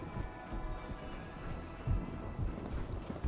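Steady rain in the video game Fallout 4, a dense wash of falling drops pattering on surfaces with a few louder low rumbles, continuous and fairly close, no voices.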